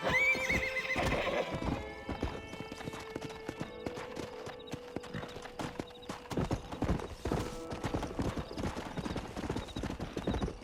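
Horses galloping and whinnying in the video game Red Dead Redemption, rapid hoofbeats pounding steadily with a shrill neigh near the start, loud and close.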